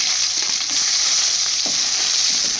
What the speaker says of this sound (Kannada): ಒಗ್ಗರಣೆ ಇಟ್ಕೊಂಡಿದ್ದೀನಿ